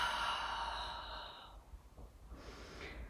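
A long, controlled exhale during a core exercise: a breathy, airy rush that fades over about a second and a half, followed by softer breath noises and a faint snort-like intake, close to the microphone.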